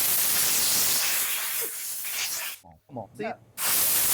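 A compressed-air blower blasts off a freshly cleaned part with a loud, broad hiss for about two and a half seconds. It drops away as someone speaks briefly, then the hiss returns for the final half second.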